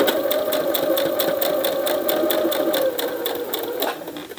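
A sewing machine stitches a zigzag on fabric, running steadily with a fast, even mechanical rhythm for several seconds, loud and close, easing slightly near the end.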